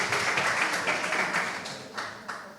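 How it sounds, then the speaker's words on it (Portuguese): Audience applause at a parenting conference in Ovar, a dense spread of clapping that fades gradually, with a few louder individual claps near the end. "Muito bem, uma salva de palmas"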